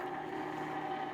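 A small ice cream maker motor hums steadily with a constant mechanical drone and no variation over the short stretch.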